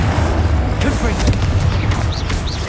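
Dense booming Confringo fire spell blasts in the video game Hogwarts Legacy, loud and continuous, mixed with other combat effects and voices in a chaotic battle.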